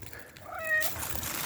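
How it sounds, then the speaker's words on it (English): An orange cat meows once in a rising, drawn-out call, clear and fairly close, with soft outdoor background noise before and after. "Big O is for Big Orange Cat."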